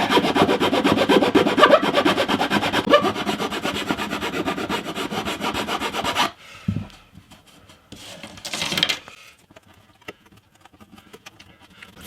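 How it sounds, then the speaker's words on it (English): Wood being filed flat by hand on a hollow body electric jazz bass, a steady close rasping that runs for about six seconds, then stops, leaving a few faint knocks and a short scrape. "file it flat."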